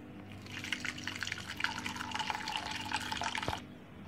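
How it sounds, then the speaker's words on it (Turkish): Homemade lemonade strained through a sieve into a container, a steady trickling pour with dripping and splashing liquid for about three and a half seconds before stopping, close and fairly quiet. "Şimdi süzgeçten süzüyoruz bu kabımıza."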